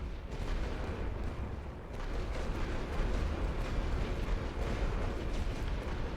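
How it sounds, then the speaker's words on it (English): Artillery fire in The Great War: Western Front strategy game, a dense, continuous rumbling barrage of distant booms that swells slightly louder midway and carries on without a break. "Now he's going to start throwing artillery on these guys."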